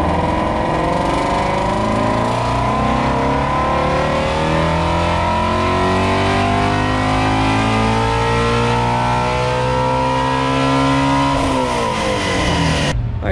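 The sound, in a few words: Ford Mustang GT350 engine revving on a dyno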